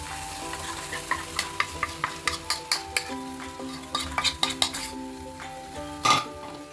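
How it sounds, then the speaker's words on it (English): Spoon stirring batter into ginger-garlic masala in a pan for crispy gobi manchurian, a rapid series of close scraping clinks and taps against the metal over a steady low sizzle, with one sharper knock near the end. "Now we'll mix the batter which we have prepared, this one."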